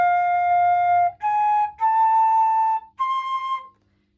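A flute plays four sustained notes in a short bar, a long dotted first note then three more stepping upward, clear and solo before fading to silence.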